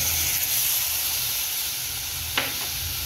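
Saffron milk poured into hot ghee for rava laddu sets off a loud, continuous hissing sizzle with a steamy crackle and one brief clink partway through, no voices.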